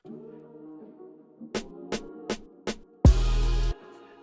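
Four sharp snare drum hits in a programmed beat, alternating between left and right, each a short crisp crack. A low sustained synth tone sits underneath, and a loud burst of bass and noise follows the hits.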